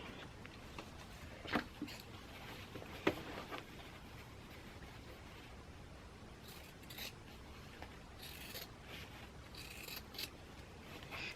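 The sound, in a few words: scissors trimming fabric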